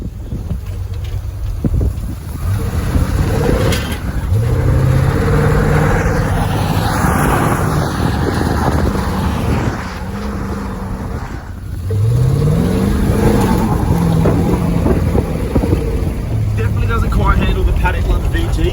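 An old car engine, running rough on only a few cylinders, idles and revs in a loud uneven drone with two rising pulls, heavy wind buffeting the microphone and a voice speaking over parts of it.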